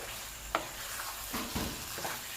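Butter chicken being stirred in a pan, with faint soft scrapes and a few brief clinks against a quiet, steady background hiss.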